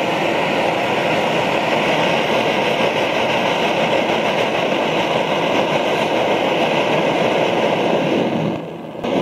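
A Primus OmniLite Ti camping stove burner turned up high roars steadily like a small jet, loud and continuous with no talk, dipping briefly just before the end.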